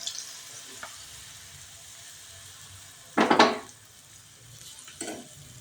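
Sweet Gujarati pudla frying in ghee on a pan gives a low, steady sizzle, broken by one louder scraping stir and a fainter one later.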